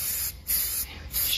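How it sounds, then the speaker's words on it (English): A spray can gives short hissing bursts onto thrifted bowls, three quick sprays close by with brief pauses between them. "So just a quick spray"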